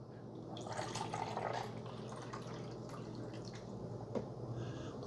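Water is poured into the back reservoir of a Mr Coffee Frappe single-serve iced and hot coffee maker, a faint steady trickle and splash with a few drips over low background hum.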